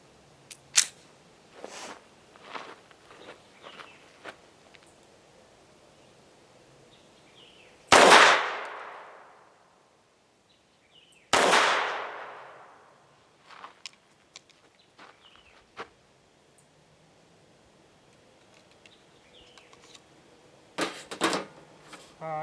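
A FEG AP-MBP 7.65mm (.32) steel pistol fired at a range: two loud, sharp shots several seconds apart, each with a decaying echo, surrounded by faint handling clicks and clatter.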